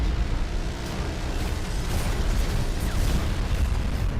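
Heavy, rumbling blasts from grenade explosions in the mech combat game Hawken, a continuous loud wash of booming detonations and mechanical noise with no talk.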